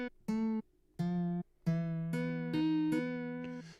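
Fretless guitar notes from a touchscreen app with vibrato switched on, a few separate plucked tones that sustain with a wavering, chorus-like shimmer, fairly soft and alone.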